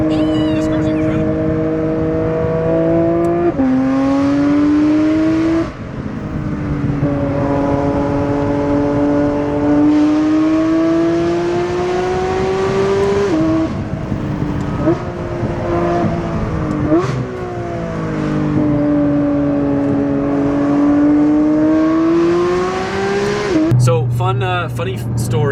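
Driven hard, a Porsche 997 GT3 4.0L engine wails loud and near, rising and falling through repeated gear changes and lifts, ending with a sharp burst of noise.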